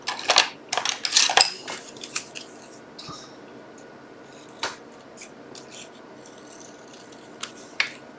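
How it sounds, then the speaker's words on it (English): Scissors snip leftover scraps of paper in a paper-crafting session: a few quick, crisp cuts near the start, then sparse, isolated snips and small rustles, close and fairly quiet. "I'll get my scissors and fix that up"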